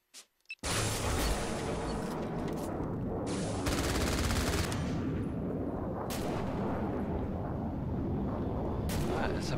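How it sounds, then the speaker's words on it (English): A machine pistol fires in the online shooter Renegade X in dense, sustained rapid bursts, loud and close after a brief quiet start, with other explosive battle noise mixed in. "it's a machine pistol. Let's try that out."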